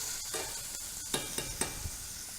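Vegetables sizzle in a frying pan under a constant hiss while a utensil makes four or five short scraping stirs, close and fairly quiet, with no talking.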